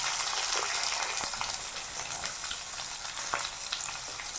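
Chopped onions fry in a pan with a steady, fairly quiet sizzle and occasional light stirring clicks, close and continuous, no voices.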